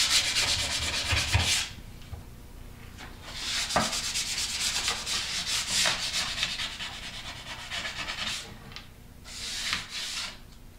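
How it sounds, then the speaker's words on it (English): Wood from a pre-sanded banjo kit is sanded by hand with 150 grit sandpaper in close, rhythmic strokes, with bursts of rough rubbing separated by short pauses. "I'm just going to go over this with 150 grit sandpaper, get all the"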